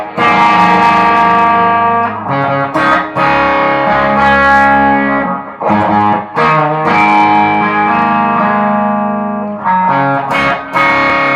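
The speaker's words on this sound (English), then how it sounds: "got a little bit of echo. Hear that little amp? Got a little echo." Electric guitar played through a small amp with an echo effect, loud strummed chords with sustained tones and repeating echoes ringing out throughout.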